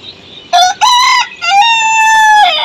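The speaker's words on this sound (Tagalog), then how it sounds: "Mga native na manok, ang dami dito." A native rooster crows loudly and close by, a long drawn-out call broken into a few harmonic bursts, over faint background noise.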